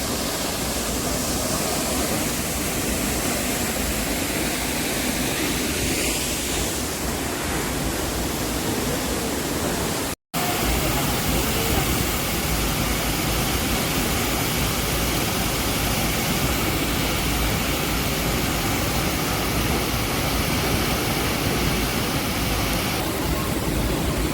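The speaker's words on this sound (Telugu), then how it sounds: "సూచీపర వాటర్ ఫాల్కి అయితే వచ్చారండి అద్భుతంగానే ఉంది" Soochipara Falls in Wayanad, a waterfall about 220 metres high, gives a loud, unbroken broadband roar of rushing water that is cut off only by a brief dropout partway through, with no talking.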